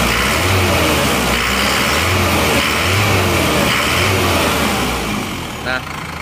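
A freshly rebuilt Isuzu Panther LS automatic diesel engine runs at a steady idle, a continuous close rumble with a low rhythmic pulse and no talk over it.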